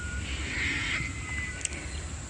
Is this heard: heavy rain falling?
no